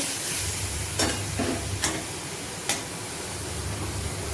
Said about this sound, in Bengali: আর মশলাতে দিয়েছি পেঁয়াজ আদা রসুন আর একটা টমেটো পেস্ট করে দিয়েছি, দিয়ে ভালো করে কষিয়ে নেব।